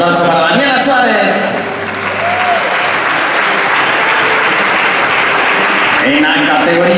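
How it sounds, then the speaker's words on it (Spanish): A gala crowd at a Galician swimming federation awards night gives loud, sustained applause for swimmer Daniela Suárez, a thick wash of clapping with cheering, a voice and music audible at the edges. "Un aplauso para Daniela Suárez."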